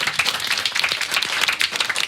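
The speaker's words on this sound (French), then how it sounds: "Vous pouvez vraiment vous applaudir, vous avez été parfaits." A studio audience claps for performers on a French television show, producing close, loud, steady applause that runs throughout the clip with no voices over it.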